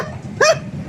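A person imitating a dog's bark with the voice, a single short yelping bark-like cry, loud and close over low background hum.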